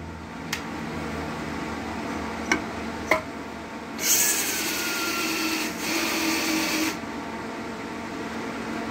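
A steady mechanical whir of a cordless drill lapping engine cylinder valves runs throughout, with a few sharp clicks early on and a louder, brighter grinding burst midway.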